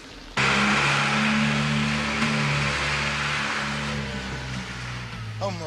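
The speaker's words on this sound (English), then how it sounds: "That sounds like my lorry." A lorry engine bursts into life and revs hard, then settles into a steady mid-pitched drone as the truck pulls away, loud and close, with a voice speaking briefly over it.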